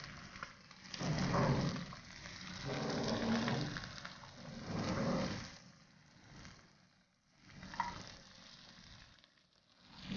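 Sizzling and frying of Ottoman honey chicken (Mahmudiye) being stirred in a pan, coming in several soft bursts with quiet gaps between them.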